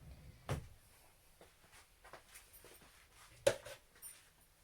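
Kitchen drawers and cupboards are opened, shut and rummaged through during baking of lemon olive oil cookies: a string of soft knocks and clunks with two sharper bangs, fairly quiet and close, with no talking.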